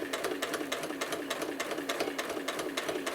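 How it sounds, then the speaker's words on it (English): A sewing machine stitches a quilt slowly along a curve, its needle tapping in a fast, even mechanical rhythm with a steady motor hum, close and continuous. "I'm going to stitch inside the curve. Again, taking it slow. I'm even going to slow the machine down a little bit."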